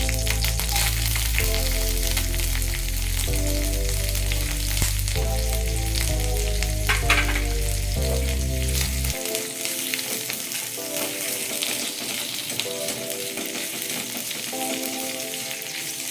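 Onions frying in oil in a pan for a paneer gravy curry, a steady broad sizzle under loud background music that drops out after a few seconds, leaving the frying hiss alone.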